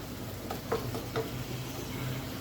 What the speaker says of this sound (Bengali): এই মশলাগুলোর সাথে চিংড়িগুলোকে জাস্ট একটু ভেজে নিব।